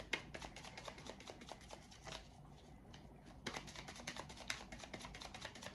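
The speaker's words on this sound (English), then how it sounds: "I'm going to go ahead and shuffle these" Quiet, rapid crisp slapping and riffling of tarot cards being shuffled, in repeated bursts with a brief lull midway, close by with no talking.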